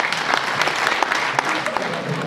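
A crowd at a sports trophy ceremony in Terves claps steadily, a dense patter of hands with sharper individual claps poking through, fairly close and sustained for the whole stretch, with a voice faintly underneath.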